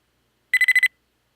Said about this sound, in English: So a little couple of beeps as it wakes up.